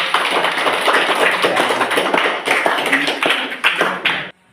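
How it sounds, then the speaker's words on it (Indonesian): Classroom of students clapping for the student groups, a loud, close burst of fast, uneven claps lasting about four seconds and then cutting off abruptly. "maka tepuk tangan untuk semua kelompok yang ada ini"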